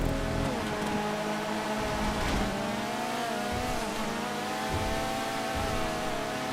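A Sultan car struggling off-road in GTA 5, with a steady engine drone that rises and falls in pitch as it revs, near and continuous, with no talking.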